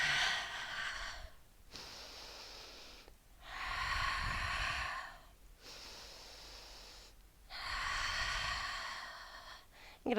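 Slow Pilates lateral breathing during a beginner mat session: long airy inhales through the nose alternating with extended exhales out through the mouth, close and steady in a rhythm of about four seconds per phase, with no talking.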